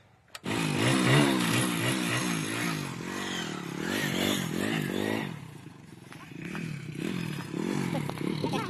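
A motorcycle engine is started and revved with the throttle, its pitch swelling and dropping in repeated surges, loud and close, with a voice speaking over parts of it.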